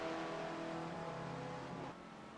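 The high, steady drone of a small open-cockpit race car's engine at speed in a sim racing game at Phillip Island, holding a nearly constant pitch before easing slightly near the end.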